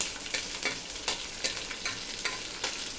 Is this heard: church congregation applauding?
no